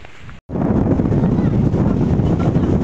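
Strong wind roars across a rocky seashore at sunset, a loud, steady buffeting rush on the microphone that cuts out for a moment near the start and then blows on unbroken.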